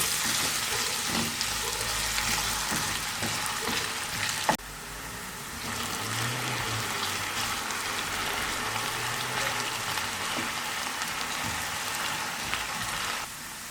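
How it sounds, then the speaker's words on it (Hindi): Potatoes fry in hot oil in a pan, probably for a Spanish omelette, giving a steady broadband crackle and sizzle that runs the whole time with a faint thump partway through; there is no talk. "आलू को 3 से 4 मिनट तक फ्राई कर लेंगे"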